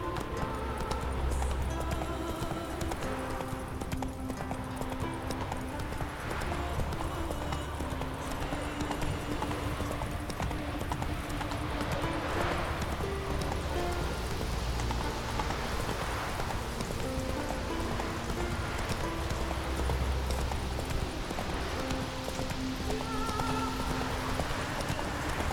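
Roach, a horse in the video game Witcher 3, gallops steadily through the whole stretch, hoofbeats in a continuous clip-clop rhythm over game music and ambient sound, with a faint occasional whinny.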